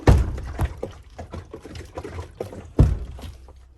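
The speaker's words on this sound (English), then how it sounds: "There's water in my door." Water sloshing inside the door of a Lexus truck that had been buried in a mud hole, close sloshing and trickling with sharp thuds at the start and near the end as the door moves.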